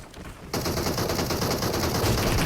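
Rapid automatic gunfire in the PUBG Mobile game: after a brief quieter half-second, a dense, loud, continuous burst of shots runs unbroken to the end.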